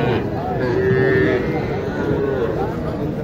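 Cattle mooing at a busy cattle market in Naogaon, a single drawn-out low moo standing out amid crowd chatter and people talking nearby.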